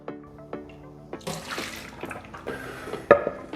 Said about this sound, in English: Our soy curls are now rehydrated and I'm gonna strain them.